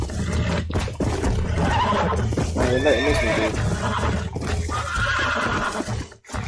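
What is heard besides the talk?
horses neighing in Red Dead Redemption video game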